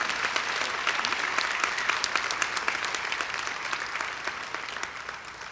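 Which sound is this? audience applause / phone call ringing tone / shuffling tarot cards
audience applause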